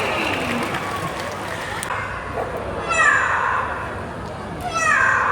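A parrot imitating a cat's meow gives two drawn-out meow-like calls, one midway and one near the end, over steady background noise, at Bird Paradise Singapore.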